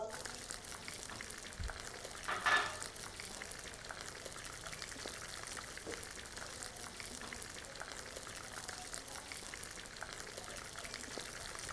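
A finely chopped medium onion goes into hot oil for dal mash, with a brief louder splash of sizzle early on, then a faint, steady frying hiss continuing quietly.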